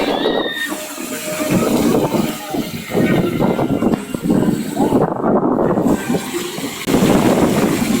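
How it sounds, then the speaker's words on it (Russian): Splashing city fountain on Ordzhonikidze Square, a steady broadband wash of falling water running the whole time, with crowd voices and talk mixed in throughout. "И фонтан."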